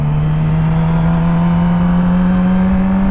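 A motorcycle engine revs as the rider pulls out, a loud, steady droning hum with a fixed pitch and wind noise, continuous and close, with no voices.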